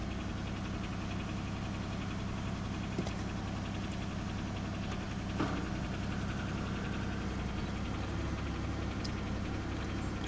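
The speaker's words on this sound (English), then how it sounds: "Compressor's getting a little noisy." A car engine idles steadily in cold, breezy weather with the defroster running, a noisy compressor adding a continuous mechanical drone and faint knocking that persists evenly throughout, close and alone without talk.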